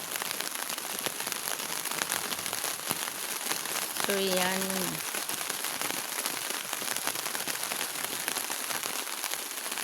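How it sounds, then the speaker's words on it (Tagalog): Light rain pattering steadily on a camping tent on a hilltop at Splendor Hills, a soft continuous hiss throughout with a brief voice speaking midway. "Yung ulan, saktong ulan lang."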